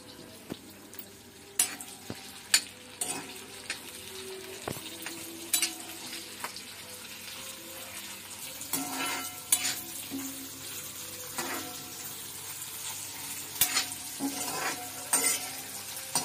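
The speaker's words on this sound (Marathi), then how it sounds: "आता आपण कांदा, खोबरं, टोमॅटो, मिरची व्यवस्थित तव्यावर भाजून घ्यायची." Onion, dried coconut, tomato and green chili are dry-roasting on a hot iron tava in a Konkan village kitchen. The soft, low crackle and sizzle is broken by sharp scraping and clinking from a turning utensil.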